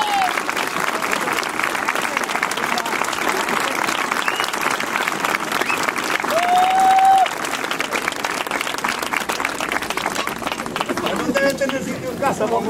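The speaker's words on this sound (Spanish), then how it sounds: "Entonces, que quiero otro aplauso." Audience at a Domingu de Sidros carnival and comedy event in Valdesoto breaks into lively, sustained applause, thick continuous clapping with a whistle and crowd chatter mixed in throughout.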